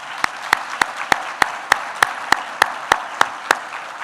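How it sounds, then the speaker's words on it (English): An audience at an organization's 25th anniversary annual conference at Stone Mountain claps in a crisp, evenly spaced rhythm. The claps are close and loud, a dozen or so in a steady beat. "Let's applaud them."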